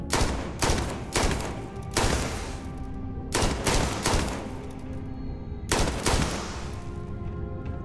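Gunfire in the space game Starfield: loud, close bursts of rapid shots repeating over several seconds, with brief pauses and ringing tails between volleys and no voices.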